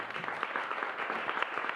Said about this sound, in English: So again, applause to Petra and the team because you're doing an amazing job.